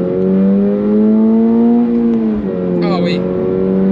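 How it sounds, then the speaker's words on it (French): A second-generation Toyota GR86 engine pulls hard under acceleration, its steady drone climbing in pitch, dropping briefly at a gear change, then climbing again, loud and close throughout. "c'est en accélération qu'on voit le nouveau couple que la voiture a de disponible"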